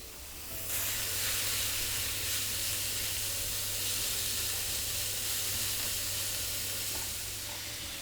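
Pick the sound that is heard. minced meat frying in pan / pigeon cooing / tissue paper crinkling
minced meat frying in pan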